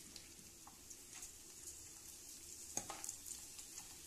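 Crackers dropped into hot cooking oil, a faint continuous frying hiss with a few small pops and one sharp crackle, quiet and close.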